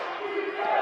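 Players and coaching staff from a JV high school basketball team cheer and yell loudly together, a brief sustained crowd roar during a York High versus Reading High game.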